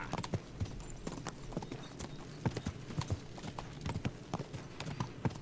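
Horse hooves gallop in the medieval video game Kingdom Come: Deliverance, a steady, rapid clip-clop rhythm of close, distinct hoofbeats over a low ambient bed, with no talking.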